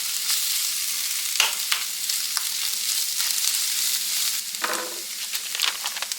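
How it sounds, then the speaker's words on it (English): Eggs sizzling steadily in a ceramic non-stick skillet, a constant bright crackle with a few sharper spatters and scrapes, no voices. "once I'm sure my eggs are cooked through, and they are, I'm going to turn the heat off."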